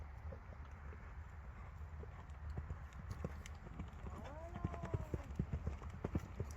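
Hooves clip-clop in a steady rhythm, growing louder and more pronounced toward the end, with wind noise and a faint voice in the background.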